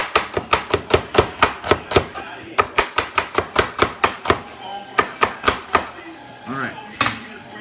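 A knife slices a red onion into thin slivers on a cutting board, making a fast, even run of sharp close chops that pauses briefly and resumes, loud and crisp, with no talk.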